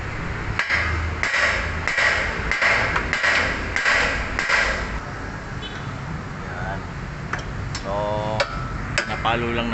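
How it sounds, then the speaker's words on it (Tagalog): Hammer striking a Mitsubishi Mirage ball joint to free it, a steady series of about eight sharp metallic blows in the first half over road and traffic noise, then quieter clatter as someone talks. "Napalo lang natin to, guys, para matinag lang, matanggal yung pagkadikit ng ball joint"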